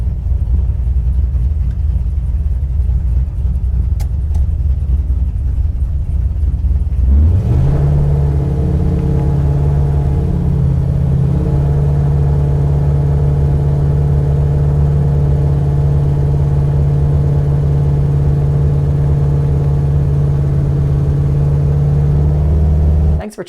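Big-cam naturally aspirated LS-swapped Chevy Nova running on a Holley Terminator X, a loud close rumble that settles after a few seconds into a steady droning cruise note held for the rest of the clip.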